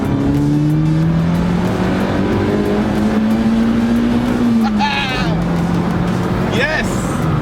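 A lowered Toyota AE86 on a road test, its engine holding a steady, droning note that rises slightly with brief chirps and squeaks near the end, with faint voices in the cabin.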